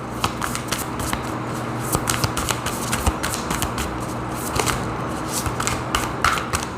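Tarot cards are shuffled repeatedly nearby, a rapid fluttering riffle with soft taps and snaps between passes.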